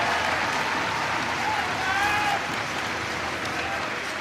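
An indoor athletics arena crowd applauds for runner Mo Farah at a 5000 m indoor grand prix, steady broad clapping and cheering over the commentator's talk.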